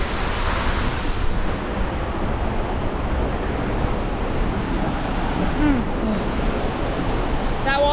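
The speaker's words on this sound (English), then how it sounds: "That waterfall is right there and it's getting pretty loud now." A loud waterfall roars steadily and close by, its dense broadband rush filling the whole stretch without pause, with a voice briefly audible over the constant water noise.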